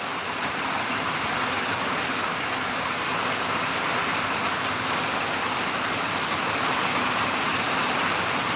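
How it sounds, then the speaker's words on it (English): Steady rain pours down and drips in all around, a dense, even hiss that holds at the same loud level the whole time, with no voices. "The rain's coming in everywhere"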